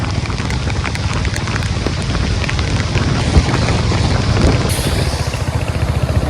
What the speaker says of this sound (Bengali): বিরাট বৃষ্টি হয়েছে এদিকে ঝড়ও হয়েছে এদিকে